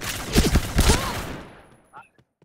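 Rapid bursts of automatic gunfire in the shooter game Point Blank, loud and close for about a second and a half, then fading into quiet with a few faint clicks.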